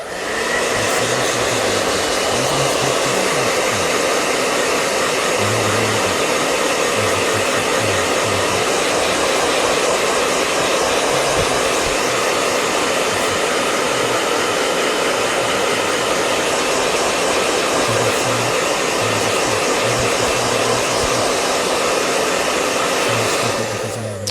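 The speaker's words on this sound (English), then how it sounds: "Blow dryer." A blow dryer runs continuously at a steady, loud whir with a broad airy hiss, unchanging from start to finish.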